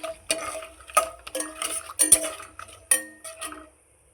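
A spoon stirs and scrapes through mutton biryani mixture with ghee in a metal pot, making clinking, scraping strokes in an uneven rhythm, loud and close, with no talk.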